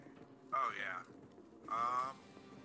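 Birds cooing like pigeons in the video game Back 4 Blood, two short tonal calls about a second apart against quiet game ambience and faint voices.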